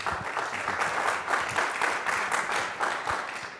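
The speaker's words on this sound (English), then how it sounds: "we want to applaud them and applaud both of them" An audience applauds a panel of guests at a security-themed event, a steady, dense wash of clapping from many hands that holds throughout without a break.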